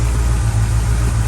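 The engine of a 1971 Ford F250 crew cab idles in a steady, low, loud rumble with an even throb, close by and without talk.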